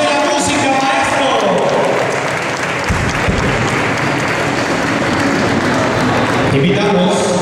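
A crowd at a beauty queen coronation ceremony in Veracruz applauds loudly and continuously, a dense wash of many hands clapping with music playing along and voices in the room.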